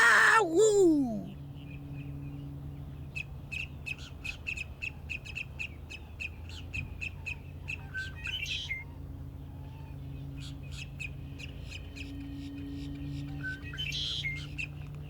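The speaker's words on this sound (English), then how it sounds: "the Red-Winged Blackbird flashes his epaulets and calls out a warning to other males" A red-winged blackbird calls a warning to other males from a high perch, heard as repeated faint chirps and short whistled notes over a steady low outdoor hum, after a brief sharp sound at the start.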